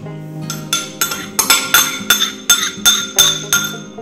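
A spoon stirring melted butter into crushed biscuit crumbs in a bowl for a crumb cheesecake base, making about a dozen bright, close clinks against the bowl in a quick, uneven rhythm.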